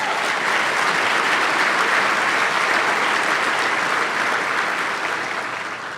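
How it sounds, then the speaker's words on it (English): An audience at a Medal of Valor ceremony breaks into sustained applause, a thick, even roar of clapping that stays loud throughout and begins to taper off near the end. "How about a round of applause for them as well?"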